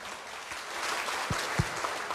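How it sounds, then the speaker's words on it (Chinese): An audience at a cross-strait high-level forum applauds with a steady, fairly faint wash of clapping and a couple of louder thumps. "请热烈掌声"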